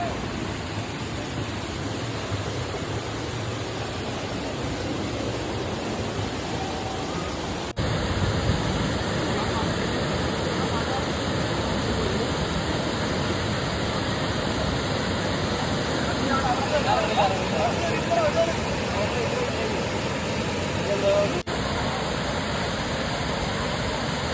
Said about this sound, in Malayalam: ഇപ്പോൾ മഴയുടെ ഒരു കാഠിന്യം കുറവായതുകൊണ്ട് തന്നെ വെള്ളച്ചാട്ടത്തിൻ്റെ ശക്തി കുറവാണ്